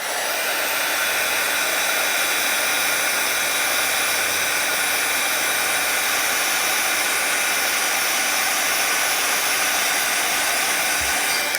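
A hair dryer blows steadily and loudly at close range for the whole stretch, drying a layer of watercolor paint, with a constant airy roar and no voices.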